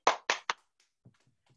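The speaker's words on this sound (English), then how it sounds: "Give yourselves a rhythm clap." A fitness class gives a rhythm clap: three loud, close, sharp claps in quick succession, followed by a few softer, duller taps and thumps trailing off.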